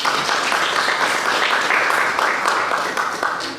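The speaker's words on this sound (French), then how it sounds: "un petit applaudissement pour lui." Audience in a hall applauding a speaker at a movement presentation in Paris, dense steady clapping that carries on throughout and eases slightly at the end.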